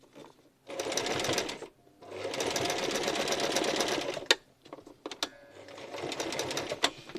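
A domestic sewing machine stitches fabric scraps in long steady bursts broken by short pauses, with a few sharp clicks between runs.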